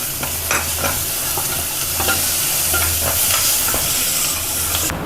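Fennel seeds, onion and curry leaves frying in a pan for kola urundai kuzhambu with radish, a loud steady sizzle with spatula stirs scraping at intervals, close and without talk.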